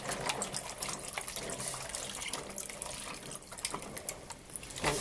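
Running tap water rinsing garlic cloves in a sink, a steady close hiss of flowing water with irregular splashes and spatter as the cloves are rubbed under the stream, with no talk.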